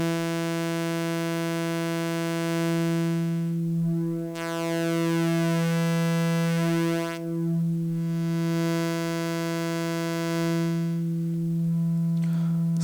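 A Serge Modular New Timbral Oscillator swept through its range, a sustained buzzy electronic tone rich in harmonics whose timbre shifts and warbles in slow waves, loud and alone.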